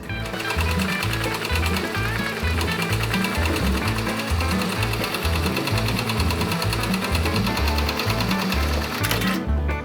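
An embroidery machine stitches a leather appliqué patch onto a cap, a loud, rapid, steady mechanical chatter of needle strokes that runs nearly the whole time and stops abruptly at the end.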